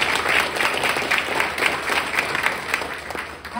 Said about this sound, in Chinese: 我想借助你们的手，给他们这些人一个热烈的掌声